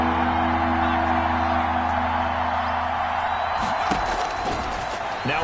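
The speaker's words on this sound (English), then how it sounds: "the crowd getting into it as we come up on a big 3rd down" A football stadium crowd roars steadily ahead of a big third down, a dense far-off wash of cheering with a few claps and thumps, under a commentator's voice.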